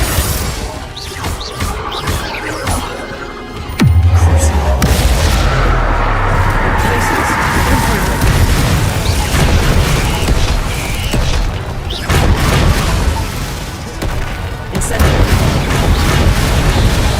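Confringo blasting spells in the video game Hogwarts Legacy, loud crashing explosions with deep booming rumbles that hit repeatedly over sustained battle noise, with a voice shouting in the mix.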